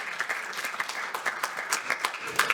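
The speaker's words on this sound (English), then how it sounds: "you can give that a round of applause" An audience applauds in a steady patter of many hands, moderately distant and fairly soft, keeping up an even wash of clapping with a few sharper claps standing out.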